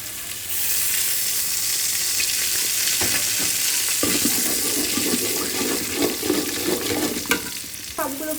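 Egg frying in a pan for vegetable fried rice, a loud steady sizzle with a sharp burst as the egg hits the hot oil, followed by scraping and stirring clatter near the end.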